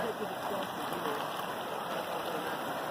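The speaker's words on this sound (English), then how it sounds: "this is the Walla Walla River" Walla Walla River flowing at night, a steady broadband rush of moving water heard continuously at moderate distance, with no clear voices.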